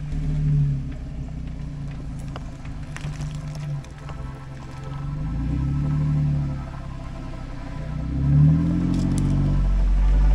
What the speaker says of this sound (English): My quad can handle these mud holes?